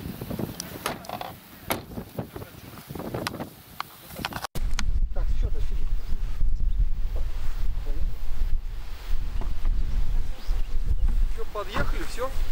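Wind gusting across the mic beside a northern pond, a loud continuous rumble and roar after a brief quieter stretch with rustling and handling noises.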